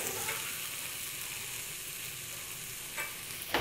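Onions fry in butter in a hot pan for artichoke bisque, a soft even sizzle throughout with a couple of short clicks near the end, no talk.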